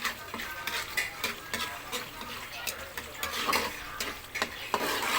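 Biko, sticky rice cooked in coconut milk, stirred in a pan: repeated scraping and stirring strokes with a light sizzle beneath, fairly close and moderately loud, no talking.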